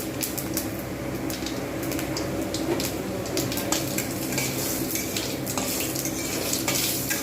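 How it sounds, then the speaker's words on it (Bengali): Dry red chillies tempering in hot oil for a mixed vegetable dal, stirred in the pan: a steady, close sizzle runs throughout, dotted with light scraping and clinking from the spoon, and no one talks. "আর শুকনো লঙ্কাটা আমি এখানে ফোড়ন দিয়ে দিলাম।"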